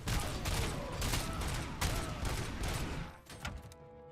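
Rapid, repeated shots from a Beretta 92 pistol fitted with a muzzle brake in the RoboCop Rogue City video game, crackling in dense bursts at moderate volume before tapering off.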